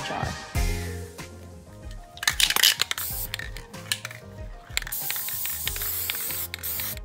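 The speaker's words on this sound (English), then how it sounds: "I'm just gonna go ahead and spray paint the lid black so that we can cover up the jar" Black spray paint hisses from an aerosol can onto a glass jar lid in bursts, with rattling and handling clicks between sprays, close and fairly quiet.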